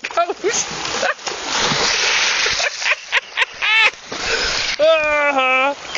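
A radio-controlled Chinook helicopter plunges into water with splashing and sloshing, close and loud, while excited voices talk over it and the rotor whine rises near the end.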